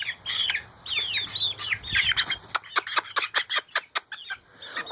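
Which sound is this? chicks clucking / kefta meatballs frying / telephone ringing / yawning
chicks clucking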